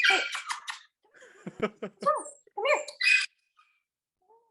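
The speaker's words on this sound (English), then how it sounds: "Sorry about my dog." A dog whimpers and whines indoors in short, high, wavering cries that rise and fall, close to the microphone, while a person speaks briefly between the sounds.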